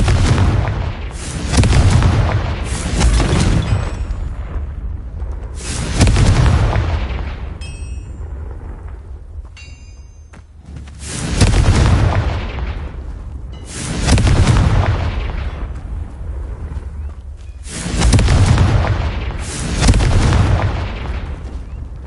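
Repeated Confringo explosion spells in a Harry Potter video game: five or six heavy booming blasts, each with a rumbling tail, arriving every few seconds, loud and close, with a few faint chiming effects between them.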